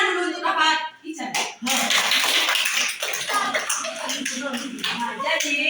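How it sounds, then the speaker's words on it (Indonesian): Clapping in a classroom setting, children's hands clapping irregularly close by with a voice speaking over and between the claps. "Tepuk tangan dulu untuk Kakak Ican."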